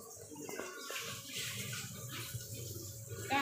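Strong, fast water flow churned up by a Yamano pump in a home aquarium, a steady broadband rushing and splashing that runs the whole time at moderate level without pause.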